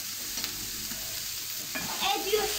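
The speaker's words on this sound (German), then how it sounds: "Jetzt dürfen die Zwiebel braun werden" Onions and bacon brown in a frying pan with a low, even sizzle, stirred a few times, while a voice briefly speaks near the end.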